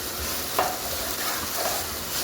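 Lady finger (okra) frying over a high gas flame while being stirred in a pan, with a steady continuous sizzle and a few brief scraping clinks of the spoon against the pan.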